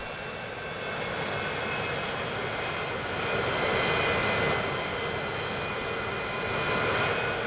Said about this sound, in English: Let's watch this plane take off.